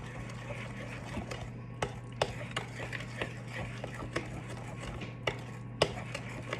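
Banana bread batter being mixed by hand with a spoon in a bowl, giving a steady run of soft scraping taps and clinks at an irregular rhythm, close and fairly quiet over a constant low hum.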